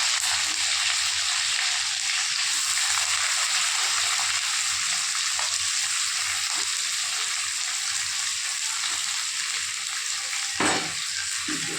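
Green chili and onion fry in a pan in a loud, continuous hiss and sizzle up close, with a brief clatter near the end and no voices.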